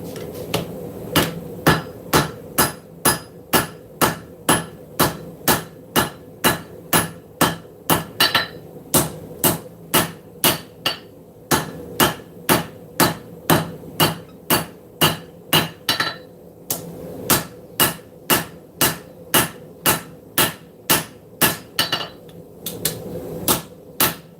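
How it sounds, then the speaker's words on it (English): A hammer strikes hot metal at a forge, dozens of sharp ringing blows in a steady, even rhythm, loud and close, with only a couple of short pauses between runs. "You need to forge that stuff hot."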